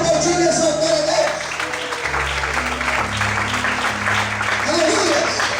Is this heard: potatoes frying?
no